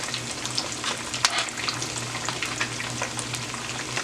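Fish frying in a pan over moderate heat makes a constant, close hiss of sizzling oil, with a faint low hum underneath and small crackles and a brief clink now and then.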